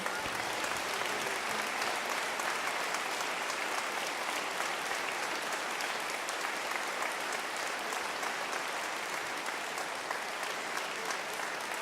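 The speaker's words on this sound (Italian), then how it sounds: "doveroso è l'applauso ai solisti di questa sera" Sustained audience applause for soloists at a year-end concert in Villorba, a steady dense wash of clapping that holds evenly from start to finish with no talk over it.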